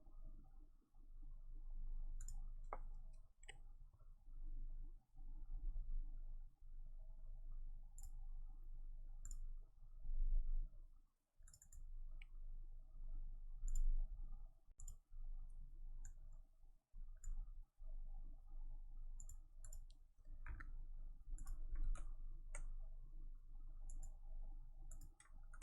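Computer keyboard keys mashed and clicked continuously for about twenty-five seconds, a steady close-up clatter with occasional heavier presses and short gaps.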